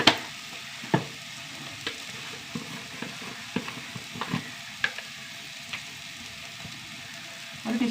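Turmeric and other spice powders going into a hot frying pan: a faint sizzle under scattered sharp scrapes and taps of a spoon stirring against the pan, close by and without talk.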